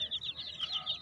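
A Rhode Island Black hen with her chicks clucks in soft, rapid repeated notes, close and fairly quiet for about a second.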